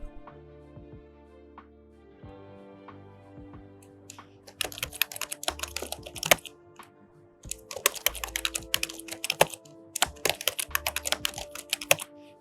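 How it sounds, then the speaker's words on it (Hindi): An old computer keyboard is typed on in quick, close clicking bursts, with a pause around the middle before the rapid tapping resumes, nothing else heard. "ये जो साउंड आपने सुना ये मेरे पुराने कीबोर्ड का था।"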